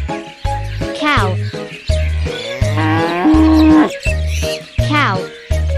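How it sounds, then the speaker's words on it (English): A cow moos repeatedly, loud and close, in several drawn-out lowing calls with short gaps, some rising in pitch, alongside chirpy cartoon-like bird sounds. "Cow."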